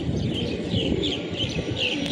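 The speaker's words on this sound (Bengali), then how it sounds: "এই হচ্ছেন একটি নর কবুতর, খুবই ভালো লাইনের কাজ করা।" A male breeder pigeon coos in a low, steady murmur that runs the whole time against a constant background hum, with no talking.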